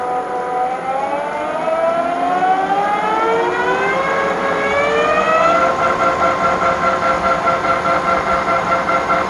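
A shop machine driven by a VFD spins up with a rising electric whine, then settles into a steady tonal hum at 1030 RPM, loud and close, with no talk.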